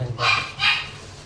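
Hungry dogs barking, two quick sharp barks in a row, fairly close, over a low background hum.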